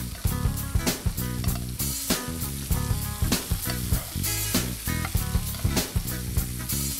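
Steak sizzling in a pan as it is basted with butter, fresh thyme, rosemary and garlic: a loud, close crackle broken by rhythmic bursts of spooning and splashing.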